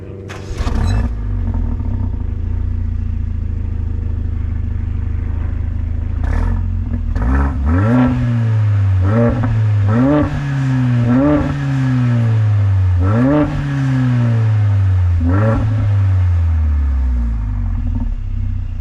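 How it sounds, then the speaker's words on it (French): A Mercedes A45 exhaust idles, then is revved several times in quick blips, each rev rising sharply and falling back, loud and close with a deep rumble and some mechanical clatter. "je vais vous faire écouter le bruit de la ligne d'échappement aussi"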